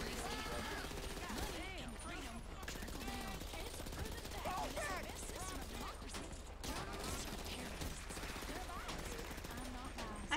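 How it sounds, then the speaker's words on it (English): Submachine gun fire in a video game: steady, rapid bursts of shots run through the whole clip at a moderate level, under overlapping conversational voices. "I think this is an SMG."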